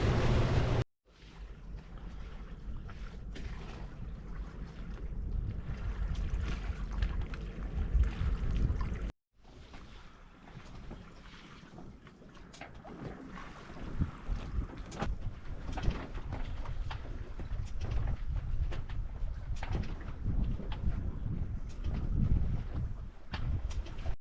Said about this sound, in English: we're all set for a nice leisurely downwind sail